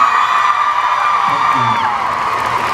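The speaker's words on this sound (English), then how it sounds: "once again, big round of applause" A convention crowd at a Boston Comic Con panel with Ian Somerhalder cheers and whoops in a continuous, dense roar of voices and clapping, loud and close, with a few brief voices rising above it.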